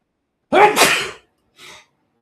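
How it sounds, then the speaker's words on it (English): A loud, close sneeze burst followed about half a second later by a softer, shorter sneeze or sniff, with silence around them. "I'm sorry I'm so sneezy."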